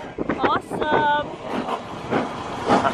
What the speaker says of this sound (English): Oh my god, the steam train is moving!